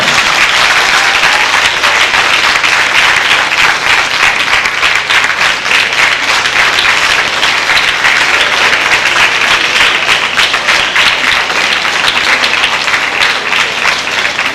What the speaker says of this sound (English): let's give your parents a nice, rousing applause